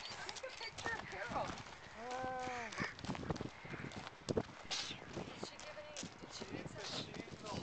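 Horses' hooves clip-clop on hard ground while the animals are being fed, a scattered run of close, uneven knocks under people talking.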